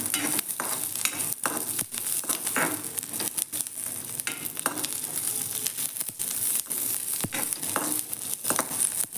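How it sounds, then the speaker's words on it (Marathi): Grated coconut and garlic dry-roasting in a pan for a flaxseed chutney, continuous crackling sizzle broken by frequent scraping stirs of a spatula, close and fairly loud. "खोबरं थोडंही झालं की लसूण घालून घेऊ चांगलं भाजून घ्यायचं"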